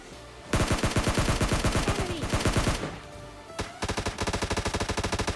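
Rapid automatic gunfire in PUBG Lite as a bot is shot, loud close bursts of dense repeated shots with a brief pause, then another fast rhythmic volley.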